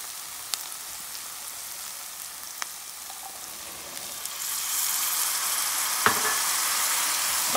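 Chickpeas added to a channa curry sizzle steadily in a hot pan, with a few scraping stirs and the frying hiss swelling louder midway through, no talking.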